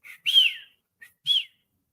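A man whistles imitating his late father's signature whistle: a short lead-in chirp, then a rising-falling tone, a brief chirp and a second similar tone, close and clear with no talking.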